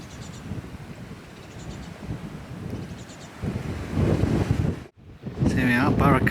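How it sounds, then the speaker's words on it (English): Strong wind buffeting the microphone on a riverbank by the River Waveney near marshland, a rough continuous roar that swells louder toward the end, with brief muffled talking. "It's blowing quite windy down here on the river."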